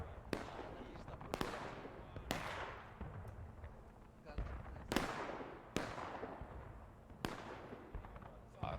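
Civil War cannons fire in the multiplayer battle game War of Rights, a series of heavy booms with rumbling tails spaced every second or so, some near and some distant, under faint voice chat.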